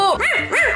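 A small cartoon-style puppy gives two quick, high bow-wow barks with a whining pitch sweep, loud and close.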